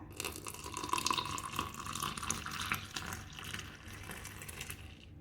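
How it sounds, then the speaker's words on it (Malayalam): Hot boiled milk poured into cappuccino cream, a soft continuous liquid splash and trickle, faint and steady throughout. "ഇനി ഇതിലേക്ക് നമ്മൾ തിളപ്പിച്ച് നല്ല ചൂടാക്കിയ പാല് ഒഴിച്ചു കൊടുക്കാം."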